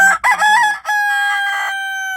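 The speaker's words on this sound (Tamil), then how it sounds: "கோழி என்னை பேசவே விட மாட்டேங்குது, பக்கத்துலேயே கத்துறாங்க" A loud rooster crows close by, one full drawn-out cock-a-doodle-doo ending in a long sustained tonal note.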